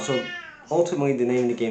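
A pet cat meows in a long drawn-out call at the start, followed by someone talking over the quieter end of the sound.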